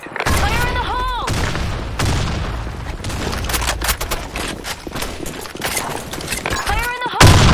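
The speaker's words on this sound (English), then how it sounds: "Fire in the hole. Grenade." Grenade blasts and heavy gunfire in the online shooter Blackshot, loud bursts and rapid shots in quick succession, with brief game voice callouts between them.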